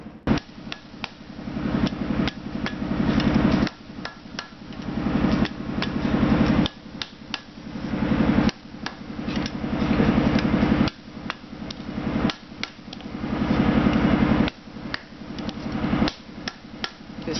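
Bushcraft survival knife blade hammered on an anvil during forging, a long run of rapid, evenly paced metallic strikes in bursts with short pauses, loud and close, with no talk.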